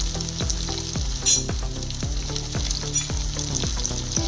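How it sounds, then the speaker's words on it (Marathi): Chopped onion for veg pulao sautéing in a hot pan, a steady close sizzle with regular scraping strokes of a spoon stirring through it, no voices. "आपण छान परतून घेऊ कांदा"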